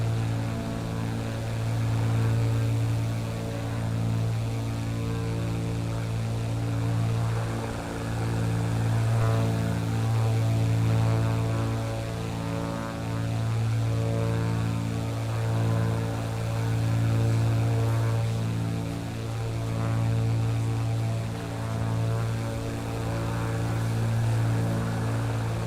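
A Bonanza A36 single-engine propeller plane cruising along Mexico's Pacific coast produces a steady, droning engine and propeller hum with a slight pulsing rhythm, continuous and unchanging throughout, with no voices.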